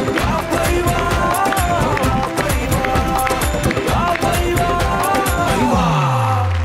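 Audience clapping at a Hindi comic poetry gathering (hasya kavi sammelan), a dense, loud patter of many hands running continuously, with voices and tonal sounds mixed in underneath.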